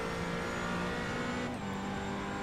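GT4 race car in a sim racing game at Sebring accelerating on throttle, a sustained loud engine drone with steady rising harmonics and a brief shift midway.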